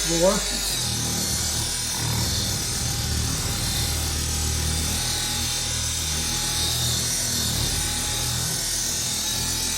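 A cordless dual action car buffer polisher hums steadily at low speed setting 1, a continuous motor whir with faint rubbing from the pad, running alone at close range for the whole stretch.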